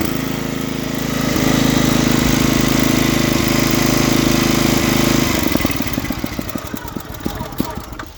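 A cheap, warm rototiller with a brand-new, untuned carburetor runs loudly and steadily up close, then settles into a rougher, uneven chugging with distinct popping firings.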